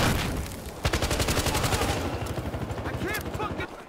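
Rapid automatic gunfire from a Battlefield Hardline multiplayer match, a sustained loud burst of evenly spaced shots followed by further scattered firing, with players talking over it.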